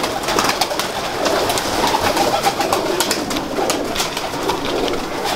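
Record-holding flying pigeons of an old breed in Gujranwala coo softly and steadily over a continuous, busy wash of background noise with no voices.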